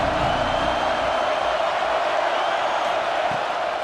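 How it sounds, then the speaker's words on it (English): Stadium crowd noise from a big Happy Valley crowd on third down in the EA Sports College Football 26 video game, a dense, loud, sustained roar with faint whoops, steady throughout with no talk. "Here comes the noise from this big crowd in Happy Valley on third down"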